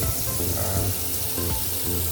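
Boiled potatoes are strained into a pot of water during a potato chicken recipe, giving a steady close rush and splash of pouring water that runs continuously without talk.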